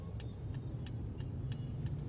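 Cars sit in heavy stop-and-go traffic in a Vietnamese street jam, a low steady engine rumble with a series of faint regular clicks above it and no talking.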